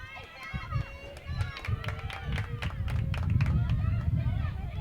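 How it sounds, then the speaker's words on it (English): Ridge fans cheer at a 2016 varsity field hockey game, a steady outdoor crowd roar building louder toward the end, with scattered claps, shouts and children's voices in the babble. "Now the Ridge fans, they're cheering them on."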